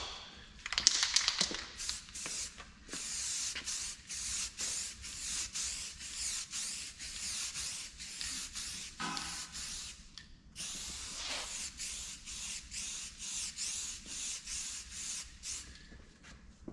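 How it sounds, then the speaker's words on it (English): Black aerosol guide coat sprayed in repeated hissing passes onto the primed door of a Vauxhall Corsa VXR, close and steady for the whole stretch, with a brief louder burst near the start and a short pause midway. "we're going to use some aerosol can just to put a guide coat over the top of it"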